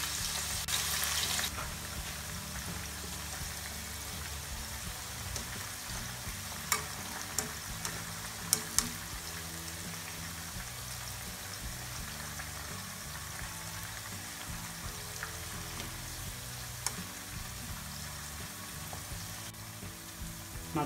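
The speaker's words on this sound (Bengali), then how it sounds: "ডুবো তেলে বেরেস্তাটা তৈরি করব।" Sliced onions deep fry in hot oil over medium heat for beresta, a continuous dense bubbling sizzle with a louder crackling burst at the start and occasional light clicks of a utensil.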